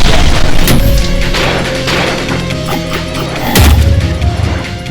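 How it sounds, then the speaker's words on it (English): A loud, dense explosion in the shooter game Ultrakill, triggered by a grenade, with a sharp crash at the start, a sustained rumbling boom, and a second heavy blast near the end. "There's even a cooler explosion."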